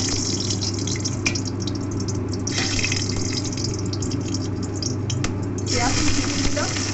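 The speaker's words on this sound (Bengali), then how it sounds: "এবার ছোটো এলাচ, দারচিনি আর লবঙ্গ আমি ফোড়ন দিয়ে দিচ্ছি।" Cardamom, cinnamon and cloves hit hot oil in a wok-style kadai and give off a steady, fairly loud sizzle that hisses on throughout without a break.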